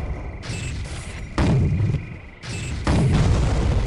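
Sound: explosives going off in the video game Soldier of Fortune

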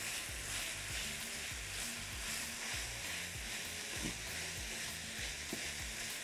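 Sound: minced meat frying and being broken up in pan

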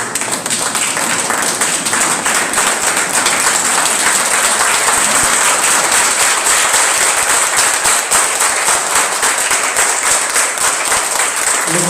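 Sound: audience applause at student award ceremony

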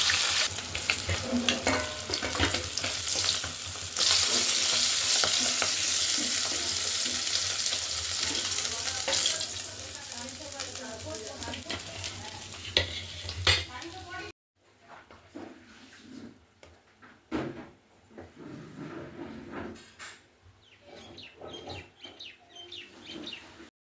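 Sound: fish frying in mustard oil in a hot wok

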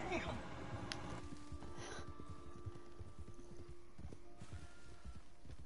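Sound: horse hooves clip-clopping

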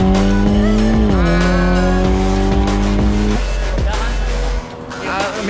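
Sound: Mitsubishi Lancer car racing

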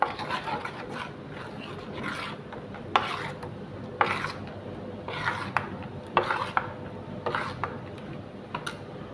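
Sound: stirring batter with jaggery syrup

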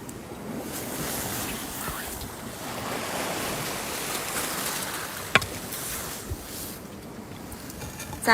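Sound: ocean waves at the seashore

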